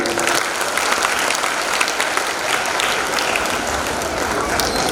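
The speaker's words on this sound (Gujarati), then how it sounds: "એમના માટે તાળીઓ થઈ જાય" Audience applause at a primary school annual day in Gandhinagar, a loud, steady wash of many people clapping that holds evenly throughout, with a voice faintly under it.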